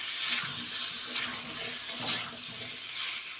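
Water poured into a pan of vegetarian potato curry (aloo dum) with fried potatoes and spices, a steady close hiss and splash running throughout, with no talking.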